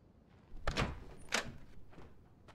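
A door opening in the video game The Last of Us Remastered: two brief thuds of a handle and panel close together, then fainter shuffling, with no talk over it.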